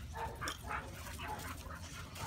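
A puppy whimpers and yips in short, faint, repeated cries over a constant low background rumble, with no talking.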